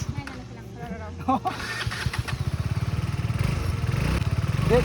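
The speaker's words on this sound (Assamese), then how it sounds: "এই যে চলাইছে প্ৰিয়ংকাই বাইক" A motorcycle engine cranks and catches, then settles into a quickening, chugging putter that grows louder toward the end, with voices talking over it.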